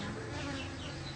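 A honey bee colony buzzing inside a house before being moved to a hive box, a dense, continuous, close-up drone of many bees.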